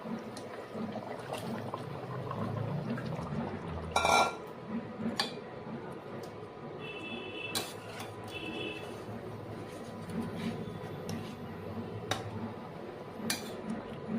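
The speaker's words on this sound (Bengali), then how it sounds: "এবার চিংড়ি মাছটা দিয়ে দেবো।" Prawns go into a pan of boiled potatoes and pointed gourd, where a continuous low simmering bubble runs throughout, broken by one sharp clattering splash near the middle and a few lighter knocks.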